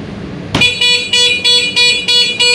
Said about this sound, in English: The alarm will go off, all the lights on the van will flash